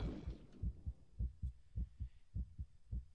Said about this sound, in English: Ooh, the heartbeat.